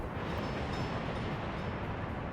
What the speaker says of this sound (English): Yeah, this is just a food train, okay.